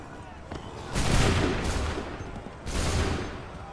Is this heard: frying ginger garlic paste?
no